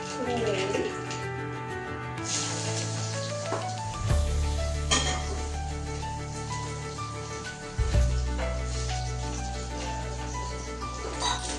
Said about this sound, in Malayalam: എണ്ണ ചൂടാക്കി കടുക് ഇട്ട് കൊടുക്കാം